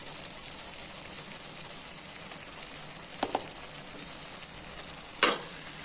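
Methi bhaji mixed with peanut powder sizzles steadily in a pan while being stirred, with two brief scraping clicks of the spoon against the pan over the constant frying hiss. No one speaks.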